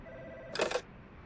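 A telephone ringing in the video game Nook Fall, a single brief electronic ring burst over a quiet background hum.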